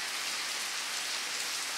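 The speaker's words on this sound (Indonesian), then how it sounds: "Allah menurunkan hujan di sore hari ini" Steady rain pours down on an afternoon in Blitar, East Java, after a long dry season, a dense, even hiss of drops on surfaces that stays constant and close with no voices or thunder.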